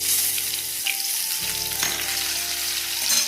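Garlic, panch phoron and a dried red chili sizzle hard in hot oil, a loud continuous crackling fry with brief stirring scrapes and a low hum underneath.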